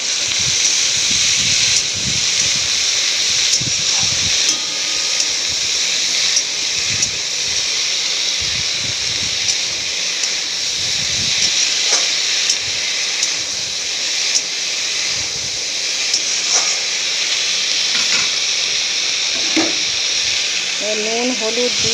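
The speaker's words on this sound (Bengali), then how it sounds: "আলুগুলো দিয়ে নাড়াচাড়া করব।" Sliced potatoes frying in a pan with capsicum for a curry, a steady hiss and sizzle running throughout with occasional stirring scrapes, while a voice talks intermittently over it.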